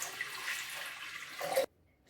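Water is poured into a large bowl as a steady splashing gush lasting under two seconds, then stopping abruptly into near silence.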